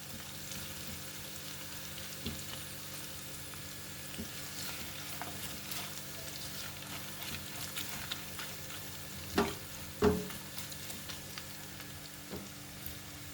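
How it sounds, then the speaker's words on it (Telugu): Ginger garlic paste frying in a pan with a low, steady sizzle, quiet and fairly close. A few louder stirring clicks and scrapes come near the middle. "పచ్చివాసన పోయే వరకు వేగించాలి"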